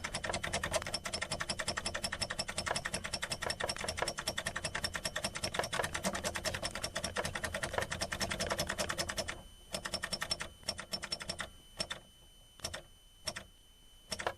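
Rapid, steady clicking from repeatedly pressing the speedometer reset button on a 1989-96 Ford truck during calibration, dense and continuous at first, then thinning into sparse separate clicks near the end.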